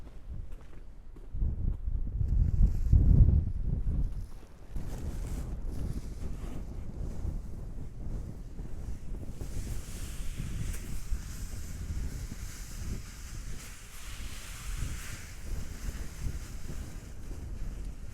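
Wind buffets the microphone with low rumbling gusts over a farm field during sowing, strongest near the start, then a steady rushing blow continues outdoors.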